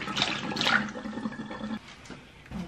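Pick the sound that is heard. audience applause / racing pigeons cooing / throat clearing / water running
water running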